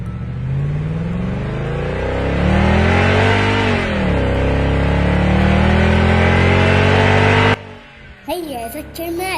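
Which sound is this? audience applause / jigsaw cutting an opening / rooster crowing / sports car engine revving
sports car engine revving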